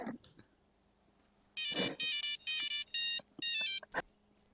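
A mobile phone ringtone chimes in a GTA 5 roleplay game, five bright repeated bursts in a steady rhythm, clear and alone after a brief sound at the start.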